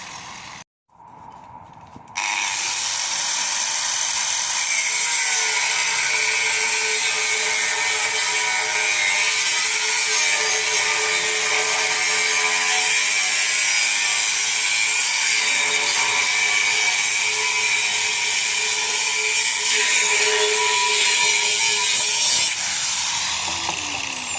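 A power tool cuts through a corroded steel trailer spring hanger, starting with a brief short burst and then running as a loud, steady, high-pitched grinding whine for over twenty seconds.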